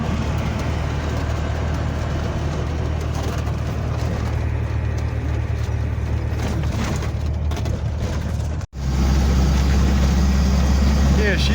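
A 1985 Toyota Sunrader motorhome's 22RE four-cylinder engine with an LCE Street header drones steadily while cruising, a continuous low rumble with road and wind noise, a brief dropout near the end, and faint talk under it.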